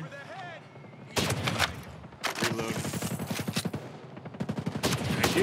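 Several enemy soldiers firing at a Terminator in the video game Ghost Recon during a Terminator live event, with quick automatic bursts arriving in clusters that grow denser toward the end, alongside voices talking.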